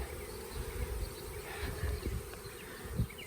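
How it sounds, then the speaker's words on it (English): A swarm of honey bees drones in a dense, continuous buzz close by, steady throughout with faint shifting hums and no voices. "A lot of bees still yet"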